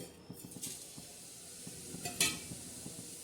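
Cumin seeds sizzle in a hot kadhai as a tempering for raw green mango gulamba, a soft steady crackle with a few brief metallic clinks and scrapes from stirring, near and without talk.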